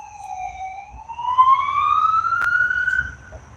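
An ambulance siren wails with a slow rising sweep and harmonics, fairly close, over low rumbling traffic noise, with a brief sharp click midway.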